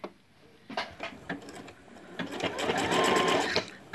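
A sewing machine stitches fabric for a patchwork appliqué dish towel. A few short, separate bursts build into a sustained, faster run of rapid needle clatter, close and clear.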